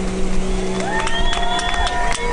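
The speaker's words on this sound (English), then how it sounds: "Make some noise for him, please." A crowd cheers at an outdoor Flyboard World Cup championship on the water, a steady broad roar with rising whistle-like tones throughout.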